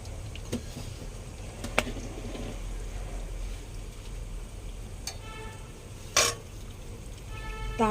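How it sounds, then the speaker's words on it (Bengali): Cinnamon, cardamom and cloves tempering in hot oil in a kadai, a faint steady sizzle with a few sharp clicks and stirring taps over it. "এবারে এর মধ্যে দারচিনি, এলাচ আর লবঙ্গ ফোড়ন দিয়ে দেবো"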